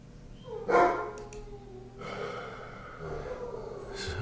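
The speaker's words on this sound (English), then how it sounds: "Apologies for the dog sounds." Dog sounds in a room during an online chess session: a short gasp or snort followed by faint snuffling breaths, quiet and intermittent, with no speech.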